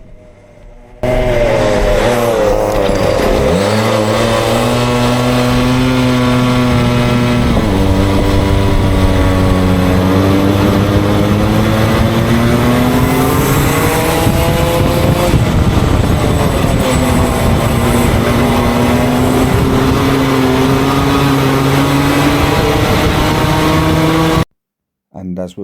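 Junior racing karts at Glan Y Gors circuit drone continuously with whining engine notes that rise and fall as they pass, steady and fairly loud throughout with commentary voices talking over them.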